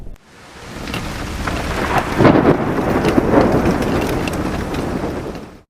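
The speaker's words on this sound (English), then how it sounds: "amidst heavy downpour and thunderstorms" Heavy rain pours steadily while thunder rumbles and cracks nearby in Uganda, the storm building and holding loud throughout.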